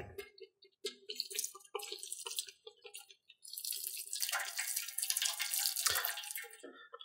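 Hot water poured from a jug into a pan to make a water bath for a lemon cheesecake, giving a gurgling splashing pour that comes in short bursts at first and then runs steadily and louder toward the end.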